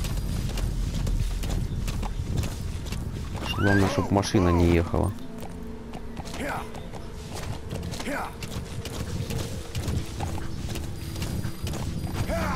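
Horse hooves clatter in a quick rhythmic gallop in Metal Gear Solid V, with a whinny and game sounds alongside, while someone talks over the play.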